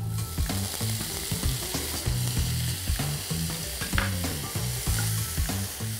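Tomatoes go into a pan of onions browning in hot oil while an oyster recheado masala is cooked, giving a steady close sizzle and fry with stirring and scraping clatter on top, no voices.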